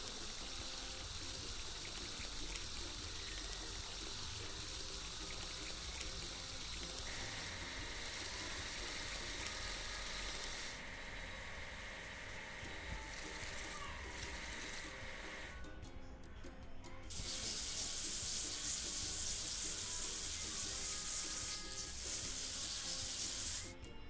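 Water spray washing an earth mover in a children's construction truck game, a steady broadband hiss that shifts in tone partway through and swells louder near the end, with no talking.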